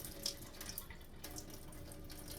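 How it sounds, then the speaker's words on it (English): Tap water runs steadily into a kitchen sink as dry beans are rinsed, a soft, even splashing with a few faint clinks and no talking. "So the beans are washed."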